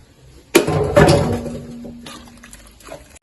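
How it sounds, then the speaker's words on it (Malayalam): Hot water poured into a pan of beef tripe for a Kerala-style boti fry: a sudden splashing gush that surges again, then settles into a faint, steady simmering tone. "വെള്ളം ചൂടായി, ഇനി ചൂട് വെള്ളം തന്നെ ഞാൻ ഒഴിക്കുന്നത്."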